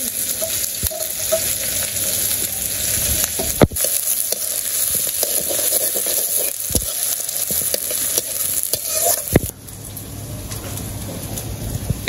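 Chopped onion frying in a pan during village cooking, a loud, steady crackling sizzle that fills the whole stretch, broken by a few sharp clacks of stirring, with faint birdsong in the background.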